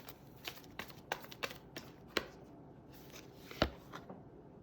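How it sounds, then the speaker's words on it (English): Deck of angel oracle cards being shuffled by hand, a run of soft riffling flicks and taps at an uneven pace, close and quiet, with no voice over them. "Put them to the deck while I shuffle."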